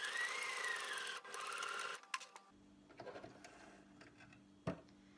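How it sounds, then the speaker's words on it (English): A sewing machine runs top stitching along the edge of a fabric eye pillow. It whirs in a close, steady burst for about two seconds, then stops, leaving soft handling clicks and small knocks. "I'm going to put what is known as a top stitch in"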